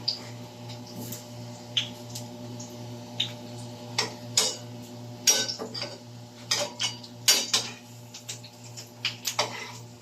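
Utensil clinks and scrapes against a frying pan while food is flipped, sharp irregular metallic taps over a steady low hum of frying, close and moderately loud.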